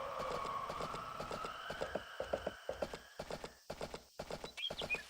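Rhythmic clip-clop of a horse's hooves from the Story of Seasons: A Wonderful Life farming video game, steady evenly spaced beats, close and clear, under a faint sustained musical tone.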